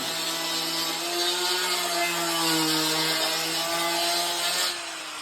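A woodworking machine cuts teak in a furniture workshop, giving a steady loud whine with a sustained tonal hum that holds evenly for about five seconds before easing slightly at the end.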